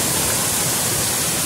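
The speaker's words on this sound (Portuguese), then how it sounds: "estamos aqui na cachoeira aqui no fundo do" Constant rushing of a waterfall reached by a short, steep trail near Diamantino, a dense even roar of falling water, close and alone without talk.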